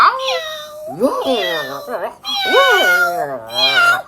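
A person imitates a cat's meow several times in a row, drawn-out rising and falling cries, loud and close.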